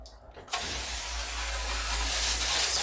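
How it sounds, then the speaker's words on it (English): Olive oil cooking spray is sprayed onto a baking pan, a steady close hiss that starts after a brief quiet moment and keeps going for a couple of seconds. "so I'm going to be using the olive oil spray"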